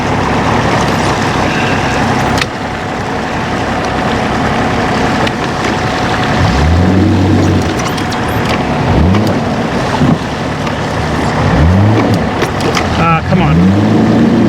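A tractor engine, just restarted after being half submerged in water, rumbles and revs repeatedly, rising and falling in pitch under wind buffeting on the microphone, with a voice briefly heard.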